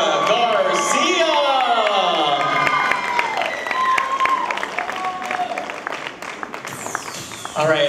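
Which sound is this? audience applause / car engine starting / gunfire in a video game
audience applause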